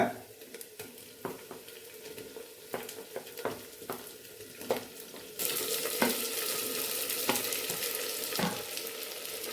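Tomatoes tipped into a hot pan for a brinjal and potato chutney and stirred, giving scraping spoon strokes over a soft sizzle that swells into a louder, steady frying hiss.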